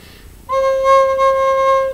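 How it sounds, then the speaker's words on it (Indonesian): A single recorder note sounds clearly and steadily for about a second and a half after a brief quiet start, alone with no talking. "cobalah terus memainkan sampai bunyinya seperti ini"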